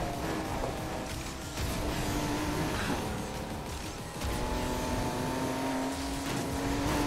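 A car engine drones at full throttle in the racing game Need for Speed Heat, a steady loud roar with slowly rising tonal whine as it holds speed, briefly dipping once before surging on.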